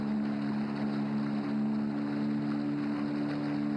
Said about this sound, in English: The sound of our motorboat unsettling the pervasive calm.